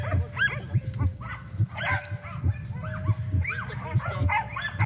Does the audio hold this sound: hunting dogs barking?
yes